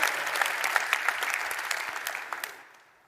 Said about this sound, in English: So a big applause for you, please